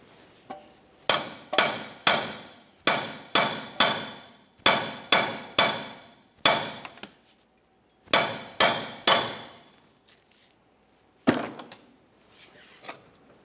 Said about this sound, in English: you can continue on with the hammer, and we'll just bonk on the upper control arm until it comes out